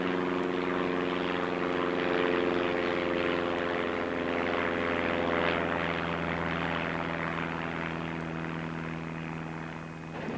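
Engines of a World War II fighter-bomber aircraft drone loudly and steadily. The deep propeller hum holds even throughout, with no voices.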